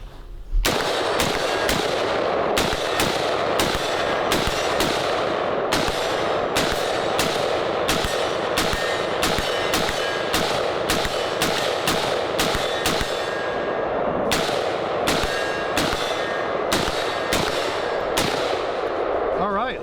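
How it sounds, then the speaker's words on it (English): A newly built AR-15 rifle fires its first shots in a long, steady series of loud, sharp cracks at close range, each closely following the last for nearly twenty seconds. "Let's take our first shots here."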